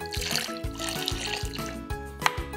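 Potatoes are rinsed under running water at a kitchen sink, close splashing and trickling with rhythmic knocks and clunks as they are handled, no talk.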